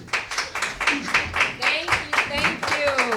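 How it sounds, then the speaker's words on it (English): Audience applause at a Native American heritage event with flute and sacred ceremonies: a steady patter of handclaps from a crowd, fairly close and moderately loud, continuing throughout. "Let's give them another big round of applause"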